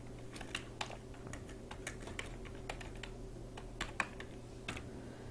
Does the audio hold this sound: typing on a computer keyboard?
yes